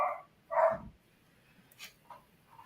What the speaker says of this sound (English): this is the first time he started playing with its different dog, which is also a Papillon